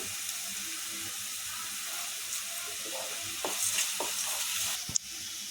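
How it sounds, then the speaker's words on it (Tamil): Salted onions sizzle steadily in a hot pan as they brown for a corn capsicum masala, with occasional scraping stirs and a sharp metallic clink near the end. "வெங்காயத்தை நல்லா ப்ரௌன் கலராக வதக்கிக்கலாம்"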